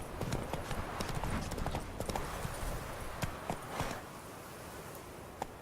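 Horse hooves clip-clopping in a fast, steady rhythm as a horse gallops in the video game Witcher 3, moderately loud and continuous, with a faint rustle and no speech over it.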